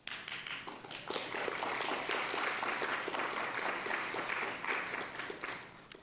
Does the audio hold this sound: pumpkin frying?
no